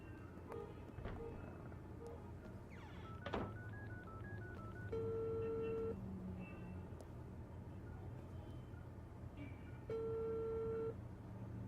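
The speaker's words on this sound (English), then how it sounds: "I need to make a phone call anyway." Telephone dialing tones, a series of short beeps followed by steady held tones, heard fairly quietly against a constant low background hum.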